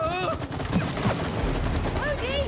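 Shooting in the co-op video game It Takes Two: quick sharp shots scattered under lively game sounds, with a voice speaking over them.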